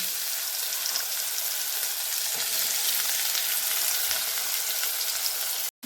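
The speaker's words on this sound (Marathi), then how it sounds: "आपला कांदा व्यवस्थित परतून घेतला" Chopped onion fries in hot oil with garlic and a pinch of asafoetida, a dense, even, close-up sizzle that holds steady throughout before cutting off abruptly at the end, with no voices.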